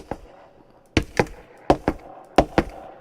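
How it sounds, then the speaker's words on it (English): Sharp, hard footsteps in a reverberant room, about seven steps in uneven pairs, each ringing out briefly in the echoing space. "that is the sound of footsteps in that reverb space"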